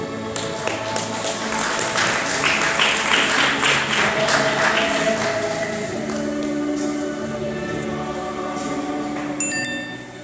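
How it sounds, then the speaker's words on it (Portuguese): A church congregation bursts into applause for the Lord during a bishop's sermon, a dense wash of clapping that swells early, then thins beneath sustained music tones. "Palmas para o Senhor."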